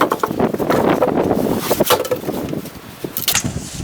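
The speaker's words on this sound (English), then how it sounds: "kind of blowing a gale here" Gale-force wind roars steadily across a ridge beside a remote log cabin in Maine, loud, close and buffeting the microphone, with gusts rising and falling and no voices.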